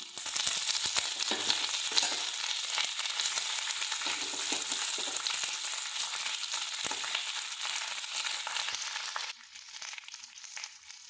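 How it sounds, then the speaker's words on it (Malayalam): Moringa leaves frying in hot oil with urad dal for a chutney, a loud steady sizzle and crackle filling the whole stretch before easing to a quieter fizz near the end, with no talking. "എണ്ണ ഒഴിച്ചിട്ടുണ്ട് ഇനി മുരിങ്ങൽ ഇട്ട് കൊടുക്കാം"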